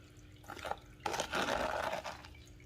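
Water washes through a Miller Mighty Mini sluice, poured in with a spoon. Brief splashes give way to a fuller, steady gush that rushes for about a second before tapering off, all close by.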